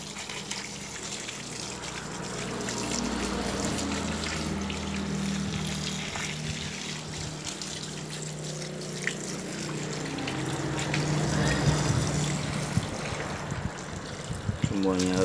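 Water running and splashing while a Javan gibbon is rinsed during a morning bath outdoors, a continuous trickling flow with shifting gushes throughout, with occasional faint voices.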